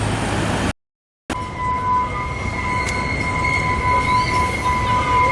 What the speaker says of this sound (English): So I thought that the trains had stopped running by now, unless this is some type of press train or deadheading